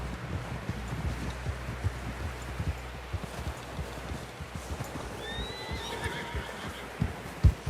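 A horse whinnies in a rising, wavering call over a steady outdoor rumble, with scattered clopping hoof thumps throughout, in the video game Red Dead Redemption 2.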